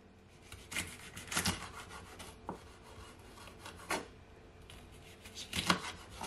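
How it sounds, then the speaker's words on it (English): A knife slices a scotch bonnet pepper into circles on a cutting board, close, quiet cuts and taps arriving in irregular clusters with pauses between. "So now I'm just going to cut my scotch bonnet pepper. And you just want to cut it in circle"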